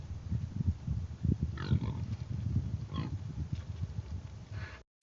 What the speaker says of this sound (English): it was like 3 pigs came by my game camera, and it was hilarious.